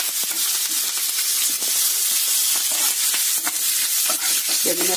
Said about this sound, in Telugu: వీటిని వేగనిచ్చి మనం కరివేపాకు వేసేసుకుంటాము.